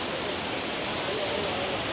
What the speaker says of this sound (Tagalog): Pagsanahan Falls.